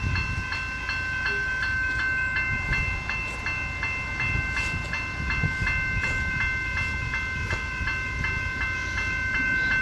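An Extrapolis 100 train passes Normanby Avenue level crossing in Thornbury, Victoria: a steady, continuous rumble with a bright, regularly repeating ringing tone running through it, with no voices.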